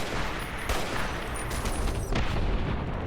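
Grenade blasts and gunfire in Fallout combat: dense, continuous battle noise with sharp bursts of shots and a couple of louder impacts, steady and close throughout.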